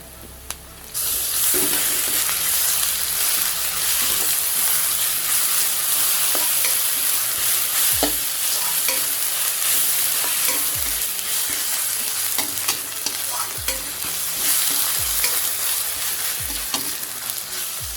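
Chopped onions with ginger garlic paste frying in a pan for chicken kuzhambu, a steady loud sizzle with repeated scraping stirs of a spoon against the pan, no voices.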